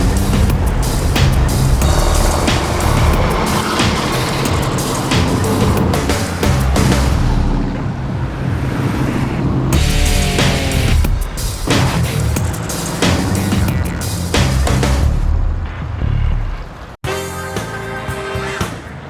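Classic cars and a pickup cruise along the road near Flathead Lake, their engines and tire noise forming a loud, steady drone with a few louder surges as vehicles pass close.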